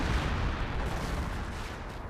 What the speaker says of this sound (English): Oh, that's a rocket barrage.